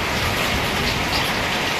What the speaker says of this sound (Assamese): চেন্নাইতে এনেকুৱা বৰষুণ